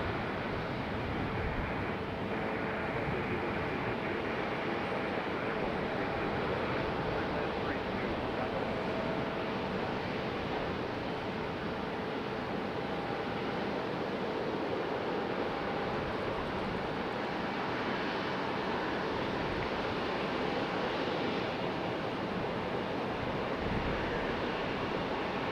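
A heavily loaded Frontier Airlines jet departs Raleigh-Durham International, its takeoff a steady, distant broadband roar that holds for about 25 seconds, mixed with wind noise buffeting the microphone.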